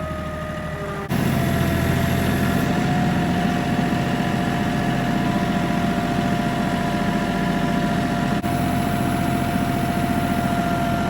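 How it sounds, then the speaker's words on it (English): A tractor's diesel engine idles steadily and close by, a continuous low rumble with a constant hum, starting abruptly after a brief quieter moment. "this tractor that I'm sitting on"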